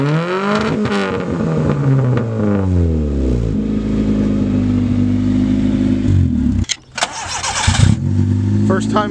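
Car engine with manual transmission revving and shifting as a novice driver works it, rising and falling harmonic whine, a stall-like dip near the end before it picks back up, with people talking over it.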